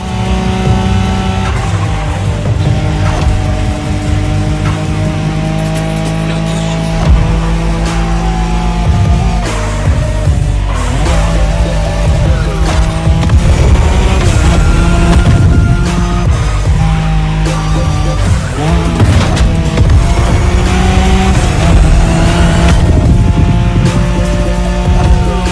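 Nissan Skyline racing engine in The Crew Motorfest on a Tokyo Bayshore Wangan run, droning loud and steady throughout with rising and falling revs, tire squeal and music underneath.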